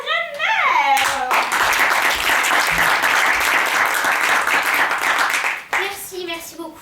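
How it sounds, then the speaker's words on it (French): An audience at a children's theatre show breaks into a burst of lively applause for a guest, dense clapping that starts abruptly after a spoken introduction and stops suddenly, followed by more talking. "Je vous demande alors d'applaudir Madame Mère Renner."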